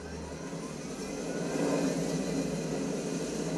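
A helicopter flies in a solo squads video game match, giving a steady, moderately loud rotor and engine drone that swells slightly midway.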